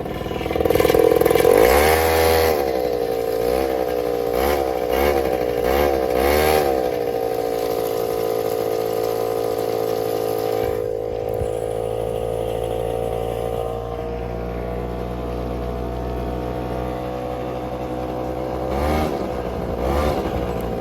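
A Motobi 50 scooter with about 5,800 km on it starts and idles close by, a buzzy small two-wheeler engine revving briefly, then settling into a steady running drone before a few more blips.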